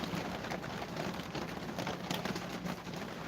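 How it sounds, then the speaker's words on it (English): Heavy rain pours down steadily as a dense, unbroken hiss close by, holding an even level throughout with no voices. "The rain is chucking down."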